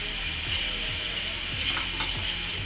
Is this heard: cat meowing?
no